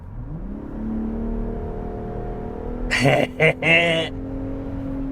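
A 2024 Ford F-150 Raptor's 3.5-liter EcoBoost V6 idles steadily, then revs loudly in two or three sharp bursts close by before settling back to a low idle; a voice briefly speaks.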